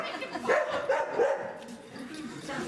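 A small dog at a live entertainment show in a museum hall gives a few quick yappy barks and yips, mid-distance, mixed with room noise and crowd murmur.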